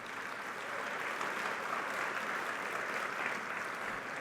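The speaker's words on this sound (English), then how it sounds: "can we have a round of applause for our AV team" Steady audience applause at a conference plenary, a dense wash of many hands clapping continuously at moderate loudness for several seconds, with no voices over it.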